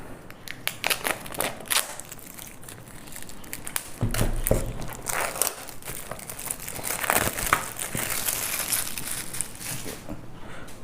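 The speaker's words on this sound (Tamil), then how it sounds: "அன்பாக்ஸ் பண்ணுறதுக்கு வந்து மேலே ஒரு புல் டேப் கொடுத்துருக்காங்க OnePlusலேருந்து." Tear tape pulled to open a OnePlus Buds Z2 box, heard as close, steady crinkling and ripping of cardboard and plastic wrap that builds in the middle and tapers off, with no talking.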